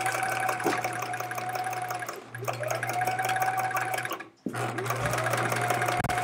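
Sewing machine doing free-motion quilting on pieced fabric scraps, its steady fast needle chatter running in bursts with two brief pauses, close and loud throughout.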